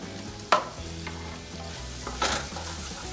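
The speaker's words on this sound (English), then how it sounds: "Stir it up. Get all the onion slices covered." Onion slices stirred in a frying pan, seasoned with salt and pepper, for a French onion casserole: a steady sizzle with scraping stir strokes, a sharp clatter near the start and another burst later.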